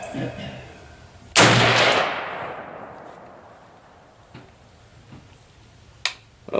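An M1A rifle fires SSA Nosler 175 gr HPBT .308 ammunition at an outdoor range: one loud sharp crack with a long decaying echo, followed by faint distant shots and a closer click near the end.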